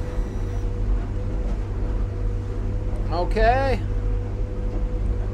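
A boat with a Yamaha 250 outboard, trimmed all the way down, gives off a steady low engine drone. A voice speaks briefly over it.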